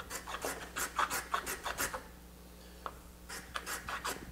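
Wood end grain worked with a finer file, a quick run of short raspy strokes for about two seconds, a brief pause, then a few more close, crisp strokes, heard alone.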